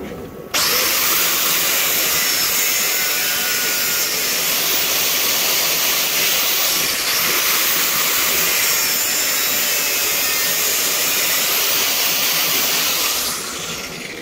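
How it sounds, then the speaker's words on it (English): A power tool grinds steadily through a threaded steel bolt on an Alfa Romeo 156 GTA, cutting just below the nut. The loud, even whine starts abruptly, holds for about twelve seconds without pause, then eases off at the end. "I'm going to cut it off just below where the nut is"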